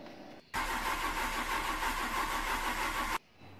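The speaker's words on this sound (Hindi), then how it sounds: "कार सेल्फ पूरा ले रही है बट स्टार्ट नहीं हो रही है" A Maruti 800 car's starter motor cranks the engine in one steady, loud, unbroken run of nearly three seconds, but the engine never catches, then the cranking cuts off abruptly into quiet.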